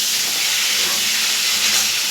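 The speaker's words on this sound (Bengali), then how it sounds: "ভেজে নিচ্ছি ফুলকপিটা ভালো করে" Cauliflower pieces fry in hot oil in a pan, giving a steady, even sizzling hiss that stays close and continuous with no voices.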